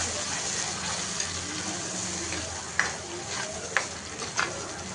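Masala sautéing in oil for a Karnataka-style fish curry, a steady hiss of frying with stirring and a few sharp utensil clinks against the pan toward the end.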